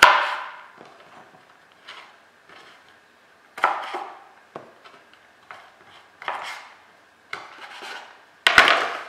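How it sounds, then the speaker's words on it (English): A knife chops carrots on a wooden board for vegetable spring rolls, a series of crisp, irregular cuts close up with quiet gaps between, some strokes louder than others, no voices. "just take your carrots and just cut them down a little bit more"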